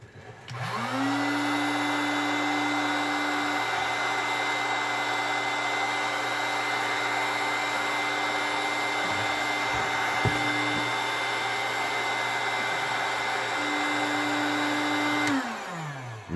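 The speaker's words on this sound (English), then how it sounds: "I'm going to have to warm this up with the heat gun." A heat gun warms plastic crawler links, its steady, loud, hairdryer-like blowing whine starting up, holding evenly for about fifteen seconds, then cutting off, with no talking.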